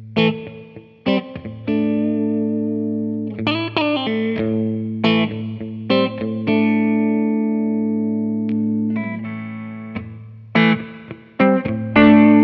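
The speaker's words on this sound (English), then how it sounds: "First with a clean sound, that's the spring sound." Clean electric guitar played through a spring reverb pedal: picked notes and sustained chords ring out one after another, each trailing a bright, splashy spring tail, with no voices.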